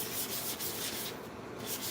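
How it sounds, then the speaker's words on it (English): Steady sanding of a 3D-printed Iron Man neck piece, a continuous close abrasive rubbing at even loudness throughout, with no voices. "Everyone just sanding."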